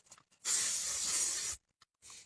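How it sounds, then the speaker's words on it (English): One sustained hiss of dark chocolate scented body spray from an aerosol can, about a second long and close, bracketed by brief quiet rustles. "Matter of fact, I'm gonna spray some on me."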